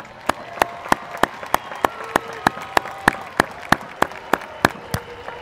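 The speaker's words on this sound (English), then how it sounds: "If we could give all of our honor students a great round of applause" A graduation audience at Bellflower High School applauds its honor students: a steady run of sharp, evenly spaced claps carrying through a hall, moderately loud and without talk.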